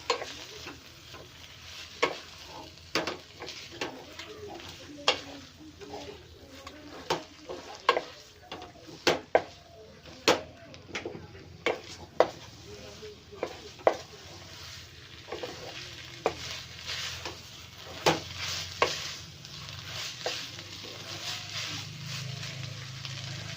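A frying pan of noodles and ingredients being tossed together: a low sizzle runs throughout while a spatula scrapes and knocks against the pan in uneven repeated strokes, nearby and without speech.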